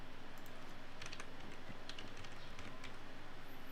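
Keys tapped on a computer keyboard while entering an email address, quiet, scattered clicks in short irregular bursts over a steady low background hum.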